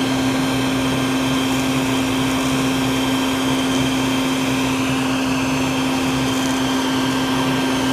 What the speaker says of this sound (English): Let the vacuum do its work.